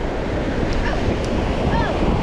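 Ocean wave breaking on a beach, a continuous broad rush of surf and wind noise filling the whole stretch, with faint voices underneath.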